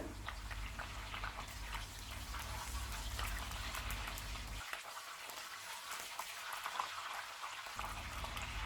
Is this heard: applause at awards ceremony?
no